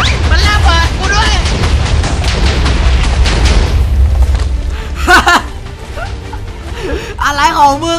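A loud, rapid barrage of TNT explosions booms in Minecraft, then thins out as voices call out over the last few seconds.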